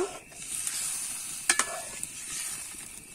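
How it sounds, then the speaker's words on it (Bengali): Cabbage kofta curry stirred in a pan, a soft continuous sizzle with a few sharp clinks of the spoon against metal near the middle and no speech. "এবারে একটু সবকিছু ভালো করে আমি নাড়িয়ে নেব"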